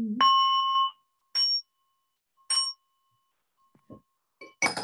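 A meditation bell rung after chanting gives a sustained ringing tone that fades, followed by two lighter strikes, a faint soft tap, and another bright strike at the end.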